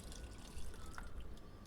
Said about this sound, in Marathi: आणि आता आपल्याला हवं तितकं पाणी ॲड करून